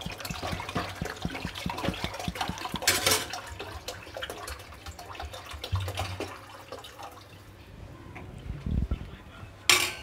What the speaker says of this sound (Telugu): అలాగే దీనికి సరిపోని వాటర్ పోసుకోవాలి.